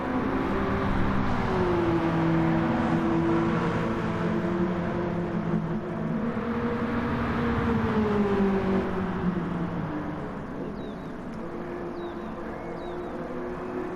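BMW E30 M3 race car engine accelerating hard around the Suzuka circuit, a loud sustained rasp that climbs and falls through the revs before easing slightly toward the end.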